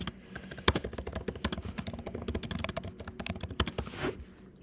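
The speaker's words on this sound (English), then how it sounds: "The tippy taps on the keyboard." Rapid, uneven tapping on a computer keyboard during a live stream: close, steady clicks that run without a break.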